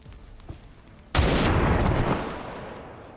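A soldier firing in XCOM 2: War of the Chosen, a single loud blast that hits suddenly after a quiet pause and rolls off into a long fading rumble, with no voices.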